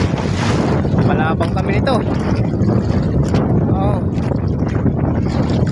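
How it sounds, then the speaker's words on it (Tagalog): Strong habagat monsoon wind blows steadily across open sea around a small fishing boat, a loud constant roar and buffeting on the microphone, with people talking over it. "Lakas ng hangin at nakahabagat ng ano na naman."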